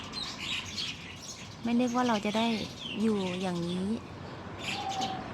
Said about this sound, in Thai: การได้อยู่ท่ามกลางธรรมชาติเสียงนกร้องนี่ถือว่าเป็นความโชคเป็นความโชคดีนะคะ